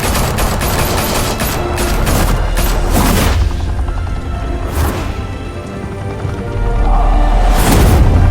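Gunfire in the Batman: Telltale Series video game, a sustained loud fusillade of overlapping shots and booms that continues throughout and rises toward the end, close, with no speech.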